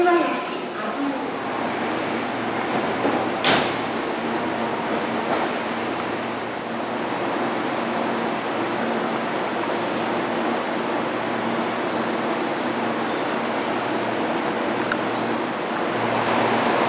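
A Tobu 200 series Ryōmō limited express, repainted in 1800 series colours, stands at a station platform bound for Asakusa, giving a steady, loud broadband rumble throughout, with a station announcement voice over it.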